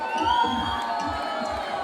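Spectators at a men's pro padel final in Bali cheer and whoop over rhythmic music with a thumping beat, a lively mix of shouts and pounding bass.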